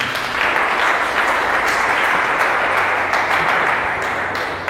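Church congregation cheering and applauding for the Lord, dense sustained clapping from a large crowd with whoops and shouts mixed in, loud and continuous throughout.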